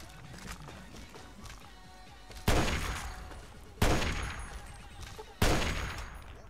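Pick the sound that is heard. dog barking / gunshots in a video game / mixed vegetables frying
gunshots in a video game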